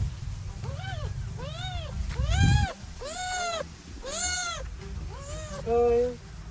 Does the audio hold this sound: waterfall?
no